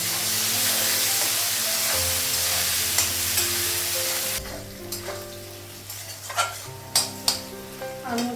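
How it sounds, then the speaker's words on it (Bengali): Potatoes and onions fry in a pan with a loud, close sizzle that thins out partway through, while a utensil scrapes and clinks against the pan in several sharp strokes. "আলু পেঁয়াজটা ভাজা হয়ে গেছে,"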